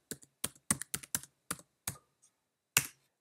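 Typing on a computer keyboard while entering a setup command: about a dozen crisp, close key clicks in an uneven rhythm, heard alone with short pauses between them.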